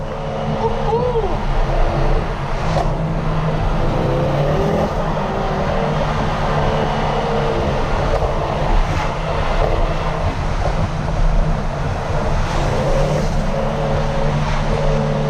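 A 2010 Ford Focus RS engine drones steadily and loudly from inside the car while driving, with throttle blips rising and falling over the constant road and engine noise.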